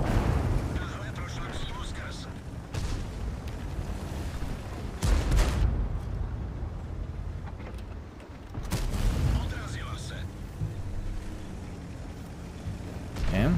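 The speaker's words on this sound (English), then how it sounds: "he's shooting AP, it's nice" Armor-piercing shells fired by an enemy tank in World of Tanks, heavy booming blasts with rumbling tails, one big impact near the middle and another toward the end, while someone talks throughout.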